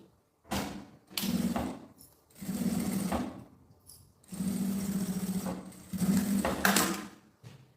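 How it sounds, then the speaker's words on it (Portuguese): Sewing machine running a straight seam on a fabric oral hygiene pouch, in several separate bursts of steady, fast stitching with short pauses between them, close and clear. "E passa a costura reta aqui."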